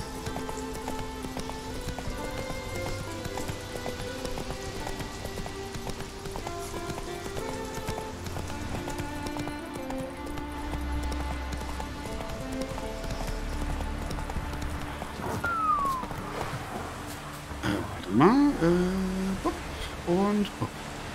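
Horse hooves clip-clop steadily through The Witcher 3 on Skellige, a continuous mid-distance rhythm under game music and ambience, with a brief horse snort or whinny near the end.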